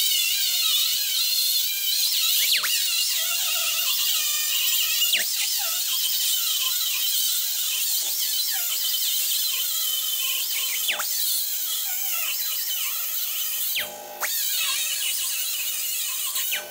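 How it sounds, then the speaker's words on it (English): On a 1960-66 GMC/C10 truck panel, a grinder strips paint down to bare metal with a sustained high-pitched whine and squeal, broken by a few brief dips as the disc shifts against the panel. "we're gonna grind this flange right here down to bare metal"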